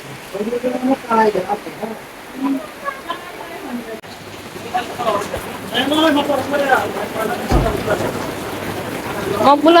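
Rain falls steadily over the hills of Bandarban, Bangladesh, as a broad, soft hiss that runs beneath almost constant nearby talk.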